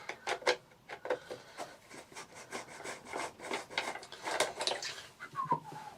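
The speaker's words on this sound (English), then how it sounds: "I'm going to have to take apart all the casing screws." Casing screws being undone on a Johnson Diversey Ensign 350 cleaning machine, heard as close, repeated scraping and rubbing clicks in an uneven rhythm, with a short squeak near the end and no talking.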